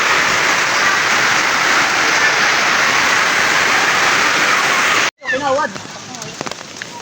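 Steady broadband hiss of heavy rain pouring down for several seconds, then it cuts out abruptly and a voice speaks over softer background noise.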